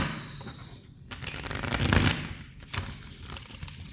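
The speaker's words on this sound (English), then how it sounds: "So give it a good shuffle." Tarot cards are shuffled in several quick papery bursts, riffling and slapping together, close up with short pauses in between.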